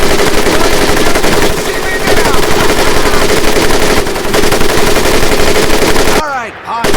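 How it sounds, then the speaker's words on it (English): An M1919A4 .30 caliber machine gun in Medal of Honor hammers out long, loud, sustained bursts of rapid fire with only short pauses, close and dominant, with voices faintly beneath. "M1919A4 30 caliber machine gun."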